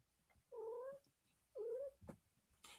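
A cat yowls twice in long, drawn-out wails indoors, each about half a second, fairly close with quiet room noise between and a soft thump near the end.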